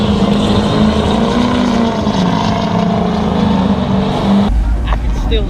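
Loud, steady roar of a Cummins diesel truck with worn, open exhaust, a continuous low rumble filling the whole stretch before the tone shifts near the end, at a truck meet.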